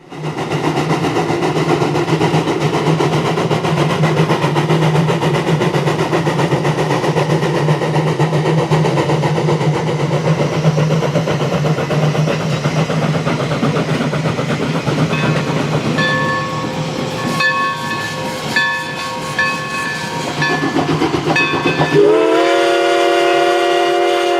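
Woodstown Central Railroad No.9 steam locomotive and its train rumble steadily past in rural New Jersey, with a long whistle blast sounding near the end before the engine noise gives way to a steady hum.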